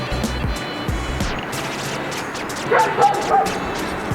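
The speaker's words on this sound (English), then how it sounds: "Right, unhappy dog." A dog in a street in Bergamo, Italy, gives short unhappy barks and yips followed by whimpering whines, moderately near over faint background traffic, with no talk.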